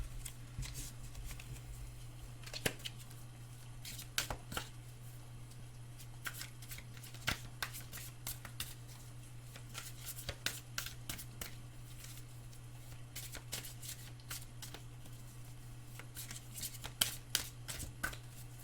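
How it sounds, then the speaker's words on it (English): Cards are shuffled repeatedly in quick, crisp riffling bursts with short pauses between, fairly quiet over a low steady hum. "These cards feel nice to shuffle."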